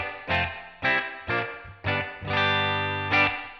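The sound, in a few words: electric guitar with stereo reverb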